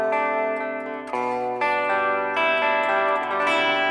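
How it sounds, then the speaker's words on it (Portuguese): An electric guitar played with its volume knob turned down gives an almost clean tone, a short run of clear, ringing plucked notes heard close and alone with no talking. "Ó, você ganha quase um som limpo."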